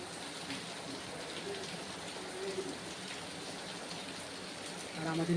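Steady rain falls outside on a morning of continuous downpour, a dense, even hiss of drops that holds faintly throughout and swells slightly at the end.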